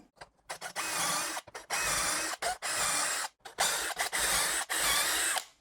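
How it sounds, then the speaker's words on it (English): A two-speed power drill on high speed whirs in several short, loud bursts boring shelf pin holes in a kitchen cabinet, separated by brief pauses, each burst starting and stopping abruptly. "So the 2-speed drill, go for the high speed on that one."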